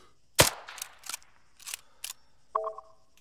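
A long-range sniper rifle shot in the Arma video game, one sharp loud crack followed by several fainter clicks and mechanical sounds, then a short tonal beep near the end.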